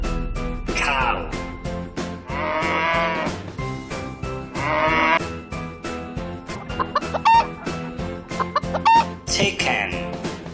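A farm chicken clucks in several short, repeated bursts, fairly close and clear, with brief pauses between calls and some quieter barnyard sounds around it.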